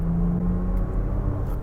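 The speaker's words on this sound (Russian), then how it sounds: "звук, конечно, породистый, вы чувствуете, что вы едете на Porsche." A Porsche Macan S engine while driving, a steady, deep, loud rumbling drone heard from inside the car with no talking.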